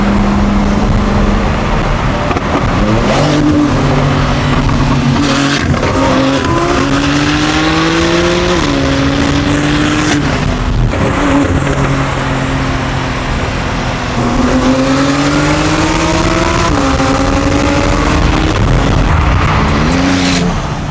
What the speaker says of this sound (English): The turbos are hella loud.